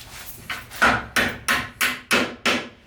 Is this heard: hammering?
yes